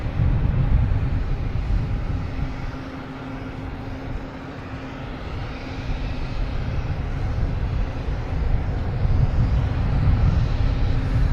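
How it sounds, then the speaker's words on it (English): Avianca airliner bound for Bogota taking off from runway 27 at Boston Logan Airport, a loud continuous engine roar swelling near the end, heard from outdoors with some wind rumble. "Next, taking off on 27, we have Avianca, Flight 227, heading to Bogota."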